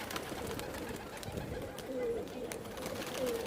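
A Rajasthani pigeon gives a couple of soft, low coos, close by under steady background noise and faint rustling.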